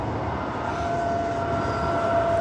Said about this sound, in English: there is the last train which did go to Fremantle and just came back going through now